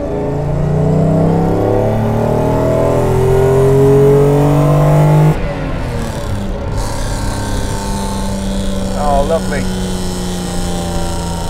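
A Mercedes-Benz 300 SL Gullwing's engine roars loudly from inside the cabin as it accelerates, a sustained throaty drone that shifts pitch midway before pulling on steadily.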